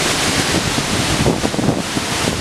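Shellburg Falls in Oregon, heard from close behind the waterfall: a dense, roaring rush of falling and spraying water, buffeted by wind noise on the microphone.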